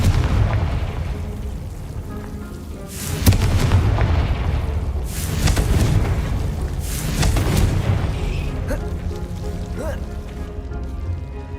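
Confringo fire spells in Hogwarts Legacy burst in three loud, sharp explosions a couple of seconds apart, each followed by a rumbling decay over a steady game ambience.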